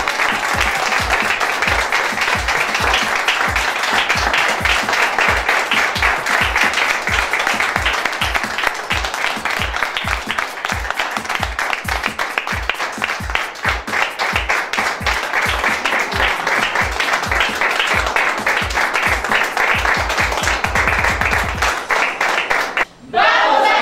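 Sustained applause from the audience of the Clara de Asís theatre group in Cagua, loud and dense for over twenty seconds, with a steady clapping rhythm and a brief dip near the end.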